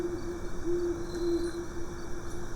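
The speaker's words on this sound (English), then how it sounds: "And then the great horned owl gets the last word in." A great horned owl gives a few low, soft hoots in quick succession over a steady background of chirping crickets.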